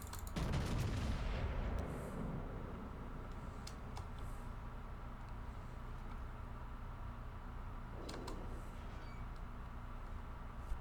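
Battleship Pommern's secondary guns fire in World of Warships, with a loud boom at the start followed by a steady rumble and a few distant sharp reports, one more burst near the end.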